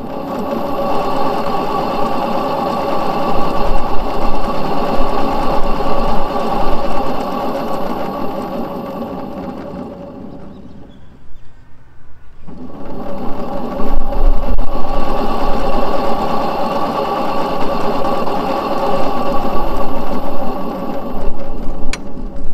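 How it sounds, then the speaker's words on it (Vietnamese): The stock motor of a Zig IMA electric motorbike, run on a Votol 80S controller at 60V, whines loudly and rattles close up, winds down to near silence midway, then spins back up to a steady drone. "Bây giờ tôi sẽ test cho anh em nghe cái tiếng động cơ mà con động cơ zin của Zig IMA khi kết hợp với con IC Votul 80S"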